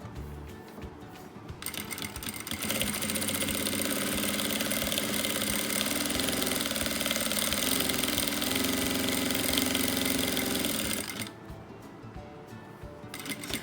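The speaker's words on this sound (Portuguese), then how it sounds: "vou começar a costurar por aqui" A sewing machine stitches fabric for a cloth cap in a fast, even mechanical rattle that runs for about ten seconds and then stops, starting and ending with quieter room noise.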